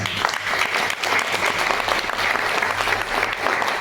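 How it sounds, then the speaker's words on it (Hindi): Loud, sustained applause from a gathered group of colleagues at a Friday training session, honouring Kiran sir, a dense even wash of clapping with no break. "उनके सम्मान में एक जोरदार ताली।"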